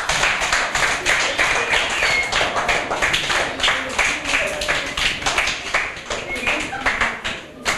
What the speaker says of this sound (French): On applaudit encore Kénissia